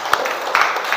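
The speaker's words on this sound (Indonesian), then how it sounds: "tepuk tangan dulu untuk kita semuanya" A short burst of applause from children in a classroom, with a few distinct claps standing out against the background.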